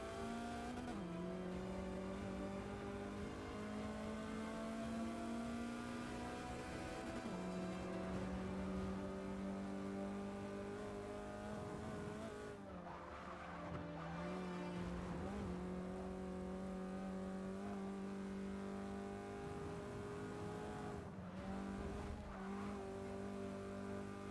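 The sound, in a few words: Mazda Miata engine rumble in Forza Motorsport 6 video game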